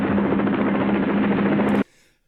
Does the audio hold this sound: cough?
no